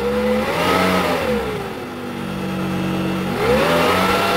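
An electric motor driven by a Delta VFD whirs steadily at high speed, its pitch dipping and rising again, loud and close with no voices.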